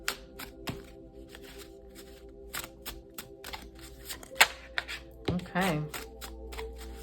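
Tarot-style affirmation cards being shuffled and riffled by hand, a run of sharp snapping taps then a soft flutter near the end, with a brief spoken word.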